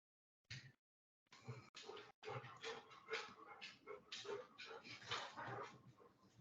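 A dog whimpers and yips for attention in a long, whiny run of high-pitched cries and snuffles, close and fairly loud after a short opening squeak.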